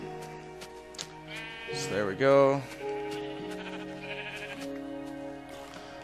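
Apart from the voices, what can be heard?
sheep bleating in Minecraft video game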